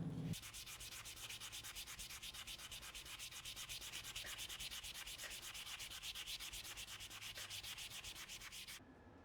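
Steady, rhythmic scraping of sandpaper rubbing back and forth against metal guitar frets, smoothing them, close and continuous with no voices.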